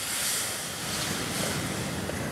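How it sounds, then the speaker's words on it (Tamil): Milk poured into moong dal flour roasted in ghee for halwa makes a steady, dense hiss of sizzling that runs unbroken for a couple of seconds. "இப்போ நம்ம எடுத்து வச்சுருக்க பாலை ஆட் பண்ணிக்கலாம்."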